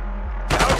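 Gunfire in Call of Duty Modern Warfare 2, a sudden loud burst of rapid shots cutting in after a low ambient rumble near the end of the brief moment.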